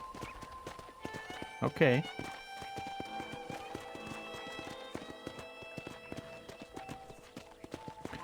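Hooves clip-clop in a steady trotting rhythm while riding on horseback in the Red Dead Redemption video game, with a brief horse whinny early on and someone talking over it.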